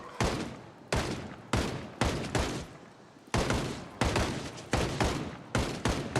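Gunfire in the Project Zomboid video game, a run of about a dozen sharp, loud shots spaced irregularly, each with a short decaying tail, firing in quick succession.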